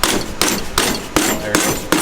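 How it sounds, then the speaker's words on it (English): A hammer smacks a boot into place on a rebuilt Toyota Tacoma upper control arm: about six sharp, loud, evenly spaced strikes close by. "You're gonna give it a couple smacks and hopefully that goes."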